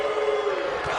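A crowd cheers in a wrestling video game arena, a steady sustained roar with a held vocal chant tone, continuous and fairly loud throughout the brief moment.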